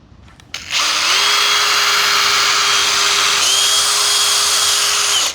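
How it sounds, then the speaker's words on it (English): A power drill pre-drills a screw hole through Colorbond steel sheet on a tiny home build, giving one sustained, loud whine that runs steadily for several seconds with a brief pitch dip midway, close up and free of talk. "Now first I'm just going to pre-drill,"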